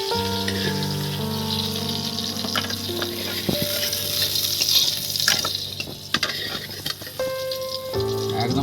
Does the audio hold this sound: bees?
no